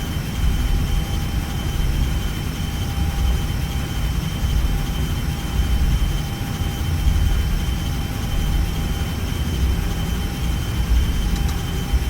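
Airbus A319 jet engines in the X-Plane 12 flight simulator, a loud, steady low roar with constant tonal whine above it, sustained evenly for about twelve seconds with no voices.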